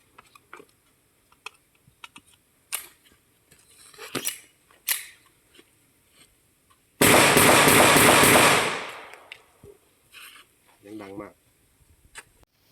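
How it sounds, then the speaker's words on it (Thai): A SIG P250 blank gun fires sharp, close, loud shots one at a time at irregular intervals, joined partway by a long, dense, roaring burst of noise, with brief speech between. "นี้ทดสอบแบงกันซิก P 250นะครับ จะยิงทดสอบให้ดูห้านัด"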